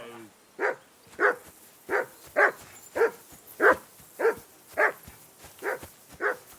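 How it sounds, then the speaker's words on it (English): A dog in the medieval video game Kingdom Come Deliverance 2 barks about a dozen times in a steady rhythm, with each bark sharp and clear against a quiet background. "I assume you can hear that damn dog of yours barking."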